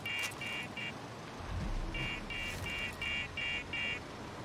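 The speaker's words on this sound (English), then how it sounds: "That beeping sound is because I'm in an anti-aircraft zone, or a restricted air zone." Repeated electronic warning beeps from a restricted air zone in the video game Far Cry 6, coming in short evenly spaced bursts with a pause between groups, over steady engine and wind noise during flight.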